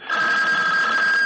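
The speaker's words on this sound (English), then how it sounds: "The phone." An old-fashioned telephone bell rings loudly and steadily with a continuous electric trill, close by and alone, in a 1974 radio drama.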